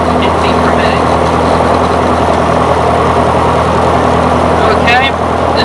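A light aircraft's propeller engine idles at about 1,100 rpm, a loud, steady low rumble throughout, close by, with a voice speaking over it.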